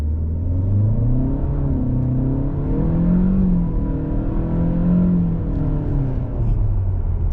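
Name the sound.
2022 Chevrolet Malibu RS turbo accelerating off the line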